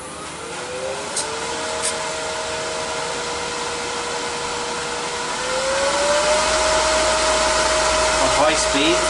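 A wood lathe spins a small yew hollow form at high speed while it is burnished, giving a steady, loud whine whose pitch climbs partway through as the speed rises, with no one talking.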